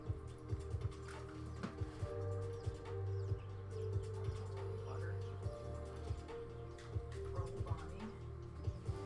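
Small birds chirp and tweet in short, scattered calls throughout, heard faintly indoors over a steady low hum with some background noise.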